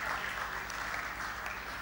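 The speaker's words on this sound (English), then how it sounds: "And a big round of applause." Audience applause fills a conference hall during an Islamic finance session, a steady wash of clapping at moderate volume that runs unbroken from start to finish with no talking over it.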